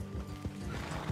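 Horses in Red Dead Redemption 2 snort and shift close by, with a soft hoof thump and low equine rumbling over a steady ambient bed.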